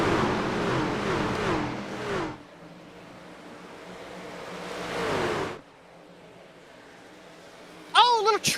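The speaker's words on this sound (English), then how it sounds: "we'll get you guys into the engines of these trucks for about one lap" Race truck engines roaring past during a lap at Pocono, with two loud swelling passes of engine noise rising and fading, quieter gaps between, and a brief sharp tonal burst near the end.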